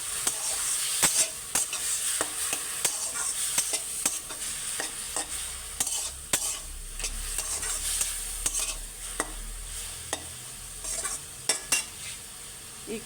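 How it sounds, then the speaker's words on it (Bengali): Black pepper powder being stirred into a sizzling pan, with a spoon scraping and clicking irregularly against the metal over a steady low fry hiss, close and fairly quiet. "আর একটু গোলমরিচের গুঁড়া। এটা দিয়ে আমি একটু নাড়াচাড়া করি।"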